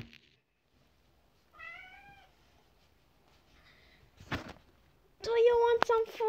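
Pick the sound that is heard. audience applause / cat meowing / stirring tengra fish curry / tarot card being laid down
cat meowing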